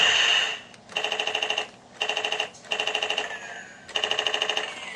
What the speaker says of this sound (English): it switches to machine gun noise